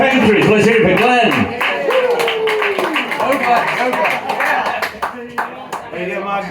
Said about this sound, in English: Let's have a round of applause for our first guest